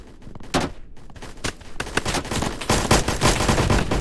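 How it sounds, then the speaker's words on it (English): Rapid gunfire in the video game Blackhawk Rescue Mission 5, a few separated shots followed by dense, sustained bursts of loud cracks, with no talk over it. "you could do it on automatic and just fire one shot at a time"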